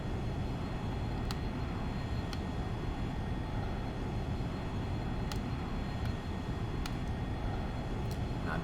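A Cirrus jet in the X-Plane 11 flight simulator gives a faint, steady engine hum and rush with no clear change in power.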